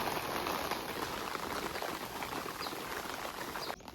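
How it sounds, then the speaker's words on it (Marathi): Rainwater dripping and pouring down steadily after rain, a continuous close patter of drops with no voices. "पाणी बघ किती पडते."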